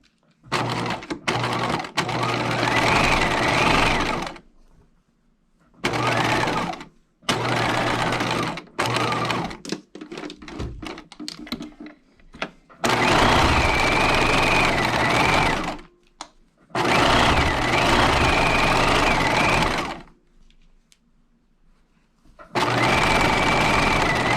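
A sewing machine stitches collar pieces in loud, fast-running bursts of several seconds each, broken by short pauses and a stretch of slower, uneven stitching.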